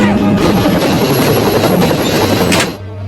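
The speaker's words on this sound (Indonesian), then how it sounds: "DIG memerintahkan untuk mengeluarkan helikopter tempur." A combat helicopter in an action film roars close and loud with a dense rotor thrum and engine whine, holding steady before cutting away abruptly near the end.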